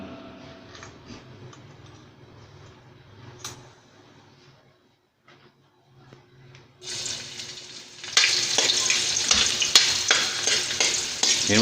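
Garlic and onion hit hot cooking oil in a pan for sotanghon guisado, first faint stirring, then a loud, steady sizzle that builds and holds near the end, with no talk.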